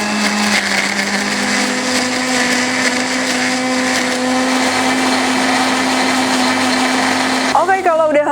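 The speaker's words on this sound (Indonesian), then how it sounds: "Lalu kita akan blender sampai halus." A kitchen blender grinds garlic, shallots, pepper and oil to a paste with a loud, steady motor whine that holds an even pitch throughout, then winds down near the end.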